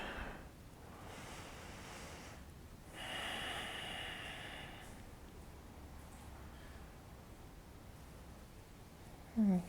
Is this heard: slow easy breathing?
yes